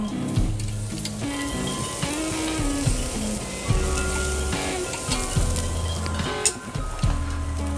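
Marinated pork belly strips sizzle steadily and loudly on a grill, a constant crackling hiss with occasional sharper pops, with no voices.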